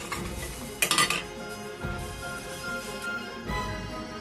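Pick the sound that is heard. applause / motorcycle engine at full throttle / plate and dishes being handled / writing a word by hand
plate and dishes being handled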